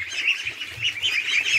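Bird calls with chirpy, quacking tones from a small flock of ducks in a morning coop. The chatter runs continuously and fairly close, with no talk over it.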